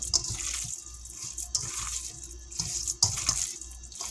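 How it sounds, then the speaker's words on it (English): Water runs steadily from a kitchen tap into a sink while hands are washed, a close, continuous splashing rush with small surges and changes as the hands move under the stream, and no one speaks. "I'm going to take a second here and I'm going to wash my hands."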